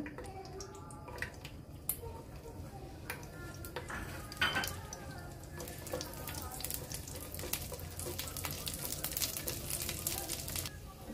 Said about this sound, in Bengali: তো এই যে বাদামগুলো আমি ভেজে নিতেছি একবারে।